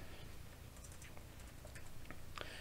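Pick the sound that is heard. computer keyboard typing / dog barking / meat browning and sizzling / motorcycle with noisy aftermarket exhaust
computer keyboard typing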